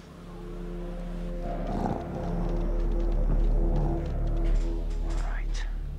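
Wolves growl low and rough in the Until Dawn horror game, a rumbling animal snarl that swells and fades over a steady dark ambient drone, with faint whispery sounds in the mix.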